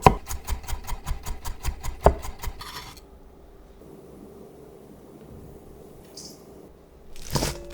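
A knife rapidly minces five whole garlic cloves on a cutting board, a quick run of sharp, even chops for about three seconds, then quiet kitchen background and a final clatter.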